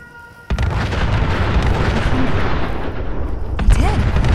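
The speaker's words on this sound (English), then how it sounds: "Look, they're firing!" Gunners firing in a Fallout 4 mod, a sudden loud booming barrage that rolls on as a dense, continuous rumble of shots and blasts.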